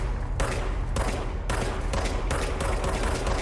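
Rapid bursts of gunfire from a weapon in the video game Control, several dense volleys in quick succession, loud and close with no talk over them.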